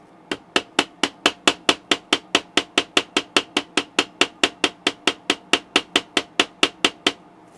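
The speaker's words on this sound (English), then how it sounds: "So if I whack on it a couple of times," An Olympia caller ID globe from Discovery is struck with a hand, giving about thirty sharp, evenly spaced knocks at a quick steady rhythm. The knocks are close and fairly loud, with nothing else heard.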